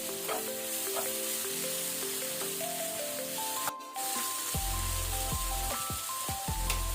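Chopped onion and a medium tomato fry in a pan for onion pulao, a continuous close sizzle with intermittent spatula scrapes and clinks, no voices over it.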